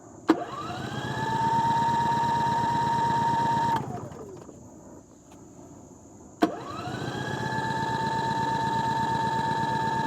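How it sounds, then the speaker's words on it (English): A Champion dual fuel 4500 watt inverter generator, running on propane for the first time, cranks up and runs with a steady engine whine, cuts out after a few seconds, then restarts abruptly and settles back into a steady drone. "So this may take a while to start because it's the first time running any propane through it."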